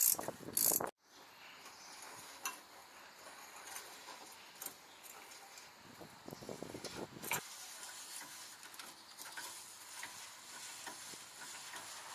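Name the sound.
wrench on adjuster nut removing Nissan Frontier shackle bolt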